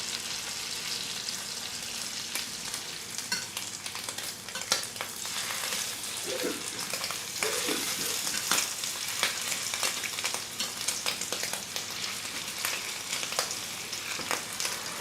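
Scallops sear in foaming butter in a pan, a dense continuous sizzle broken by sharp spatter pops and a few scraping stirs, close and steady with no talk.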